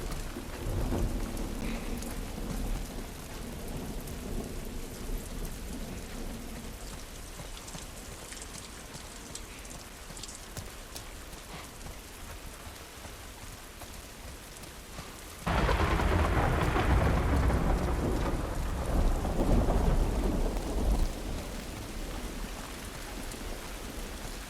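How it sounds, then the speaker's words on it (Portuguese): In the video game The Last of Us, steady rain pours throughout with low rumbles of thunder; midway the downpour suddenly grows louder and heavier, then eases slightly. "A reação do Joel com a chuva"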